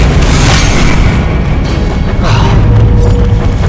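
Confringo blasting-spell explosions in the video game Hogwarts Legacy make a loud, continuous roar of booms and crashing debris that fills the whole stretch amid game combat noise.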